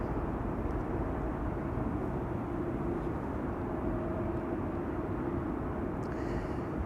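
KLM Embraer 190 jet arriving at Amsterdam Schiphol Airport, a low, steady rumbling engine wash with a faint tonal whine, moderately distant and fairly quiet throughout, with no talking.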